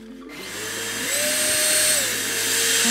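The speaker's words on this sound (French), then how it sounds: "je vais mettre le mode boost. Le mode boost, ça aspire encore mieux." A Rowenta Air Force 360 cordless vacuum cleaner starts up and shifts into boost mode, a loud close whirring motor whine that climbs in pitch and holds steady, heard alone.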